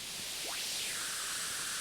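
A harsh, hissing wall of distorted synthesizer noise from a filter driven to maximum distortion, with a rising then falling sweep, steady and fairly loud with no voices.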